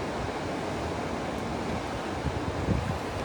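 Steady broadband wind roars close on the microphone beside the sea during a fishing trip, mixed with a constant wash of surf, with a slight swell in loudness near the end and no talk.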